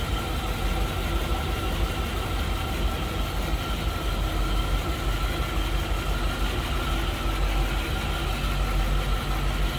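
A 1957 Cadillac Eldorado Biarritz with twin four-barrel carburetors idles steadily, a loud, close, continuous engine rumble that holds even throughout with no voices.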